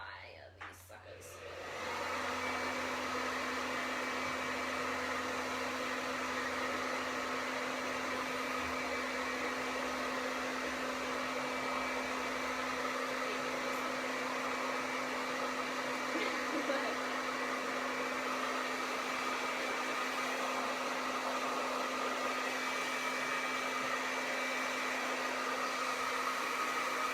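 A hair dryer blows on wet paint on a buffalo check painting, running as a loud, steady, close whir for nearly the whole stretch.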